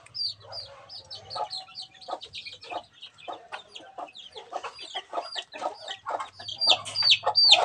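White leghorn chicks in a brooding pen, giving dense, high, overlapping peeps and cheeps throughout, close and fairly loud, with a faint low hum underneath.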